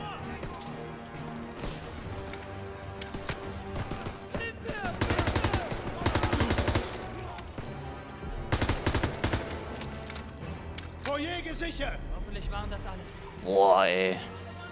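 Machine-gun fire in the World War II shooter Call of Duty WWII, sustained bursts of automatic gunfire mixed with game music and effects, with heavier stretches of shooting and a voice talking over part of it.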